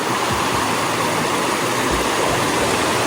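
A clear stream flowing over rocks in Minahan, General Nakar, Quezon, a continuous dense rush of water, loud and close, with no breaks.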